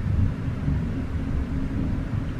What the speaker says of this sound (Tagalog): Kumukulog.